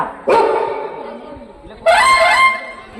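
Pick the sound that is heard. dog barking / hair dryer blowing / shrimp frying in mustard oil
dog barking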